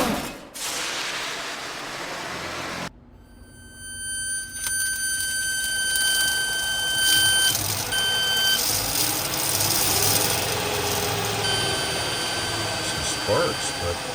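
Electric motor of a converted Ram 50 truck winding up under throttle in neutral, a rising close whine with steady high electronic tones and beeps layered over a rumbling hum.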